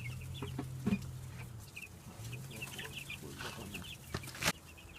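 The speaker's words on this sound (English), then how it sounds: "Right now, we are about to feed the chicken." Chickens clucking while being fed on a Jamaican yard, with soft overlapping clucks and a few louder squawks scattered at close range, plus occasional scuffling and tapping noises.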